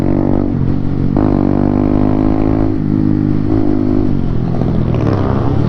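Honda CB motorcycle with its exhaust baffle removed, engine running loud and close with a continuous rumbling drone and slight rises and dips in revs throughout.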